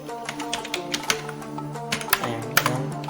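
Typing Python code on a computer keyboard, close and fairly quiet, with irregular clicking keystrokes in quick runs under faint background music.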